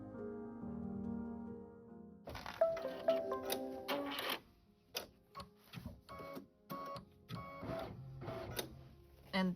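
An embroidery machine stitching a placement line on fabric for a spa soap pouch, starting with a low hum, then a series of rapid mechanical bursts with short pauses in between, close and moderately loud.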